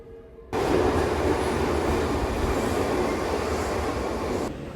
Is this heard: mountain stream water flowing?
no